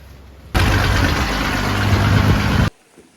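A Massey Ferguson MF 1200 tractor engine idles close by for about two seconds, a low continuous rumble with a faint high whine, then cuts off abruptly into near silence.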